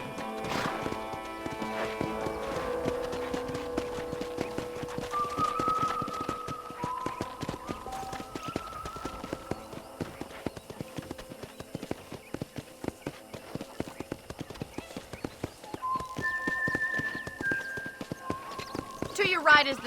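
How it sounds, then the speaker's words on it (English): Horse hooves clip-clop in a steady rhythm with a neigh in Red Dead Redemption, while a voice talks over tonal background music from the game. "let's see if you can still ride a horse"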